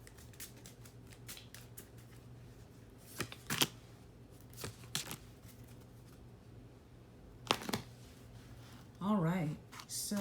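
A deck of Kipper fortune-telling cards is shuffled and a card pulled, giving a few bursts of papery riffling and slaps under a woman's speech.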